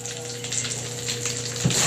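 Water being poured by the bowlful into a bathtub, a steady watery wash with a louder splash near the end, alone with no talking.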